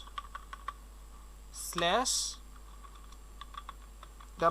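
Computer keyboard being typed on, a scatter of light, quick key clicks spread across the stretch, fairly faint and close, with a brief burst of a voice in the middle.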